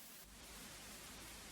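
Simulated preamp noise from a vintage synth plugin forms a soft, even wash of broadband hiss, steady throughout with no voices over it.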